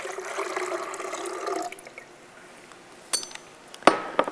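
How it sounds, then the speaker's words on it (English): Distilled water pours into a Vitamix blender jar, a close liquid gush for about a second and a half, then quiet before a few sharp clinks of the container. "I'm going to add here a cup and 3/4 of distilled water"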